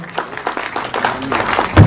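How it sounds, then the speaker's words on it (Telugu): Brief applause from an audience at a film premiere show for the director, with a rapid, dense patter of many hands clapping close by and a thump at the end. "ఒకసారి అందరు గట్టిగా క్లాప్స్ కొట్టాలి ఎవరివన్"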